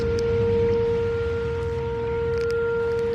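A town storm warning siren sounds from outside a house as a storm approaches, holding a steady, sustained wailing tone with faint rumbling background noise and no talking.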